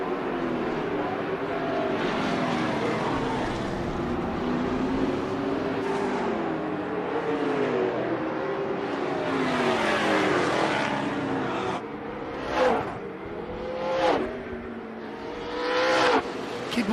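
Open wheel modified race cars roar along the backstretch, engines droning and shifting pitch as the pack runs, with several sharper passes sweeping by close in the final seconds.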